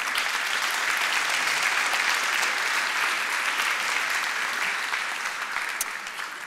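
Audience applause in a lecture hall as a speaker takes the stage, a steady, dense wash of clapping from a large crowd held at an even level before easing slightly.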